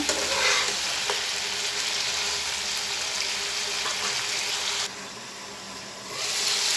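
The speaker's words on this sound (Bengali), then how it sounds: "আলু বেগুন মাছ সব একত্রে দিয়ে হালকা একটু কষিয়ে নিব" Fried potato, eggplant and rohu fish are sautéed together with spices in a pan, with a steady close sizzle and occasional stirring scrapes that briefly quiet near the end before resuming.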